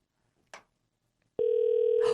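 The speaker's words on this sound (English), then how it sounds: "It's ringing." A telephone ringback tone starts partway through, loud and continuous, sounding on an outgoing call to a Burger King number in Florida. A short noise is heard earlier, and the tone runs to the end.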